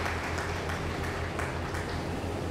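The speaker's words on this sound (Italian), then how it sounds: "faccio un grandissimo applauso a tutti voi per il vostro sostegno" Steady applause from a group, fairly dense and continuous, moderately loud for a few seconds.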